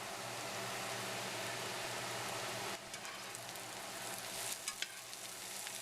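Potatoes fry in a pan for home fries, giving a steady, dense sizzle that stays loud and even throughout, with a few sharper crackles and pops near the end and no voices.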